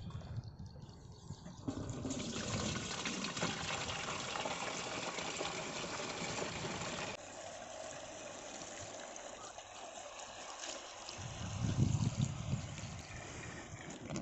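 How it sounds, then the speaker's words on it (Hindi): Water gushes and splashes steadily as it pours from a can into a battery-operated sprayer tank, the flow changing tone midway and gurgling toward the end. "फिर भी ये पूरा पानी मैं इसके अंदर डाल देता हूँ"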